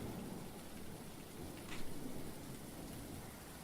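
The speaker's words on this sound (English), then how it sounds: "Raining." Steady rain on a morning falls as a continuous broadband hiss throughout, moderately loud, with a brief swell near the middle and no voices.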